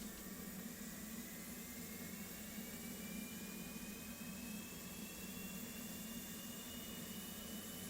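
Jet engine spooling up in the DCS flight simulator game, a steady, faint whooshing roar with a thin rising whine, continuous and unbroken, with no voices.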